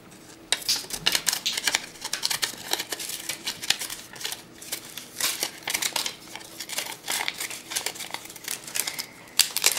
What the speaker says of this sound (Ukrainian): На, ріж по кругу ножицями.